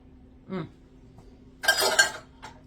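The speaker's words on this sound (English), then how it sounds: "Let me grab another spoon." A spoon clinks and scrapes against a bowl of broccoli cheese soup with sausage, one short knock followed by a louder, busier burst of metal-on-dish clatter, then a faint tap, close by.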